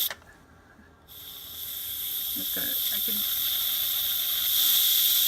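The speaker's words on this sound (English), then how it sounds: "I'm going to go ahead and release my steam" An Instant Pot Ultra pressure cooker venting steam after cooking toor dal: after a brief quiet start, a loud continuous hiss builds and holds steady, with a few faint clicks and light handling noises near the start.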